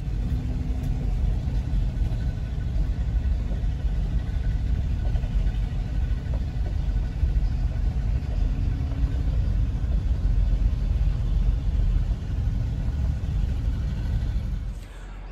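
An old Farmall F14 tractor engine runs steadily with a low, continuous rumble for the whole stretch, close and fairly loud, then quickly drops off at the end.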